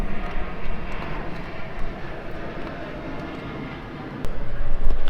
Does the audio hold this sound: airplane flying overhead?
yes